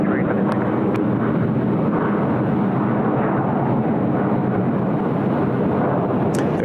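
A China Southern airliner departs Sydney Airport with a loud, steady jet roar that holds for the whole stretch, heard from nearby at the airport.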